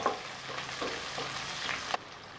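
Onion, garlic and dried red chillies sautéing in oil for brinjal curry, a steady close sizzle with soft stirring scrapes and a sharp clink near the end.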